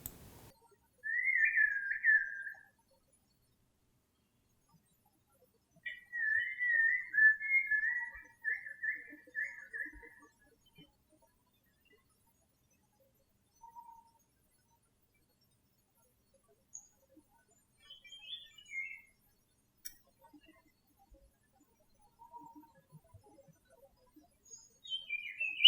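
Recorded bird song of the type B variety with mimicry, heard as several bursts of bright whistled and chirping phrases separated by pauses, fairly faint and alone with no talking.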